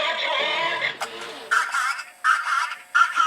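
A radio-controlled toy Dalek's harsh, buzzy electronic voice speaks in several short bursts, robotic and metallic, heard close up.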